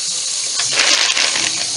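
Tap water gushes over ice in a kitchen to make an ice bath for eggs, a short bright splashing pour that swells briefly, close and alone.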